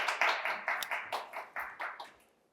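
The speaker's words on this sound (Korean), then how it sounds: "박수 한번 치세요" Audience clapping at a Korean national diplomatic academy top-scorer event as a guest is invited up, a short round of scattered claps that fades quickly, moderately faint with no talk.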